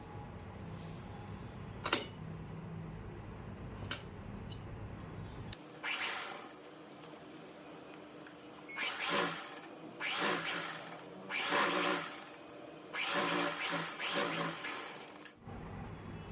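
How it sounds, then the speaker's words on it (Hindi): A sewing machine runs the top seam on salwar fabric, with several short bursts of fast whirring stitching separated by pauses and light handling clicks. "ये सिलाई लगाने के बाद अब ऊपर की सिलाई लगाएंगे"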